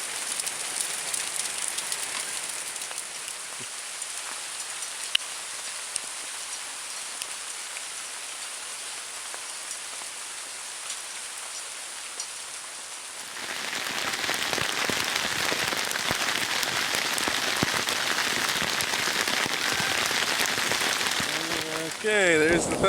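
Heavy hail or rain pelts a surface in a dense, steady patter, growing noticeably louder and harsher partway through, with a faint voice early on.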